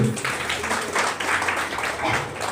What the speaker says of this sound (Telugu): ఎంతమంది సంతోషంగా చేతులు ఎత్తండి, గట్టిగా చప్పట్లు కొడుతూ